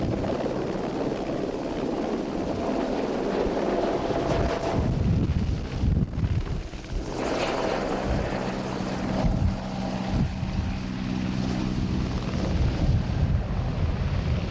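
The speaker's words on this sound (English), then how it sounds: "every year during the TT there's a rescue chopper based at the grandstand in Douglas" A rescue helicopter flies during the 1991 Isle of Man TT near Douglas, its loud, continuous rotor drone steady throughout, mixed with wind buffeting on the microphone and no talk.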